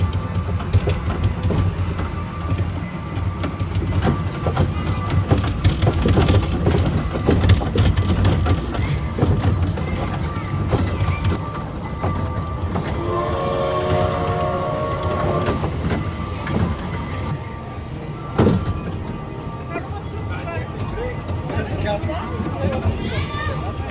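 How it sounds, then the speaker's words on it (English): A small amusement park train ride at IMG Worlds of Adventure rolls along with steady clattering and rumbling while people talk over it throughout. "That train ride was fun."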